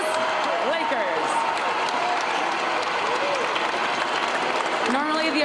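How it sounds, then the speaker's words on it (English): Crowd applause and cheering at the Lakers' Western Conference championship trophy ceremony after beating the Nuggets, a dense continuous roar with voices threaded through it. "Normally the applause is much louder, but I can assure you all of Los Angeles is clapping right now"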